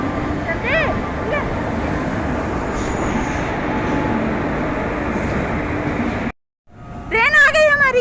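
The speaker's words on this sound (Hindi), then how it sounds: "ट्रेन आ गई हमारी।" The Sealdah Rajdhani, running from Kolkata to Jammu Tawi, pulls into platform 7 with a loud, steady rumble and rattle of wheels. It cuts off abruptly, and then someone speaks close by.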